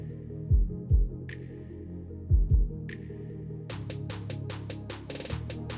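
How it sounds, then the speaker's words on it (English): Upstairs neighbors' heavy footsteps thump through the ceiling of an apartment as deep, muffled booms in pairs, followed by a denser patch of low knocking, all beneath a faint steady hum. "Upstairs neighbors. I swear they move like bowling balls."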